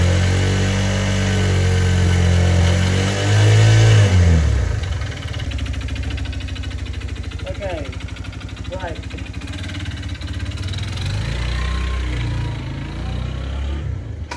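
Motorcycle engine with an intermittent loss-of-power fault, loud and close during a test ride, rising in a rev at first then holding a steady throbbing drone with wind rush.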